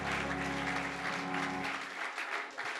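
A church congregation claps together in a hall: a steady, full wash of applause from many hands that thins slightly toward the end.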